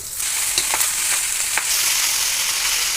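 Moringa leaves fry in a pan with onion, salt and seasoning, giving a steady close sizzle with a few light stirring scrapes and no talking.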